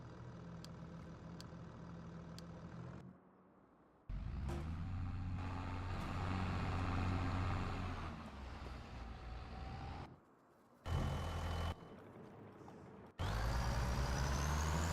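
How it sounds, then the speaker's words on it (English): Heavy truck engine in Farming Simulator 25 rumbling and idling, with hissing air brakes and abrupt shifts in level as the vehicle pulls away; no voices. "I can hear the truck leaving, can't I?"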